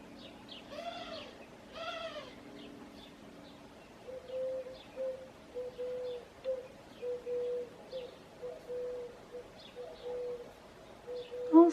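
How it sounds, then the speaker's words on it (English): Morning birdsong: a dove coos twice nearby, then small birds such as sparrows and finches chirp in a repeated, even pattern while other faint calls sound from farther off. "All sorts of birds this morning."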